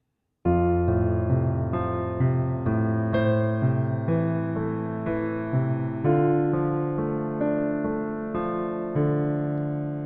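Solo piano playing the opening three chords of a song with the melody on top, sustained chords and notes struck in a slow, steady sequence, close and clean with no voices.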